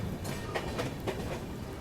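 The Shree Shakti AC Express rolls slowly along the tracks, heard from inside the train as a steady low rumble with faint, irregular wheel clacks.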